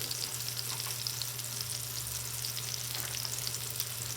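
Chicken pieces fry in a cast iron pan with a steady, dense sizzle and low hum, crackling evenly throughout with no talking.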